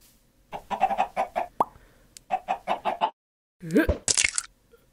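A cartoonish chicken clucks in a live-action Minecraft-style animation, with a run of short rhythmic clucks, a pause, then a louder squawking burst that ends in a sharp high flutter.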